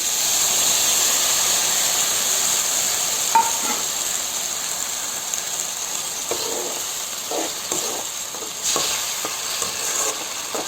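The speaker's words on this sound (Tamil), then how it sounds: "இப்போ நம்ம அரைச்சி வச்சுருக்கிற தக்காளி பேஸ்ட், தக்காளி ஊற்றிடலாம்." Tomato paste poured into onions frying in a pan for an egg drop curry, giving a steady close sizzle with bursts of stirring and scraping throughout.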